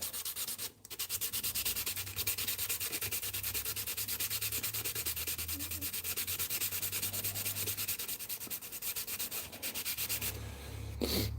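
Continuous close scrubbing of wet and dry sandpaper against a custom guitar pick, a dense rapid rubbing held almost without pause, with a brief break near the start and a rougher burst at the end.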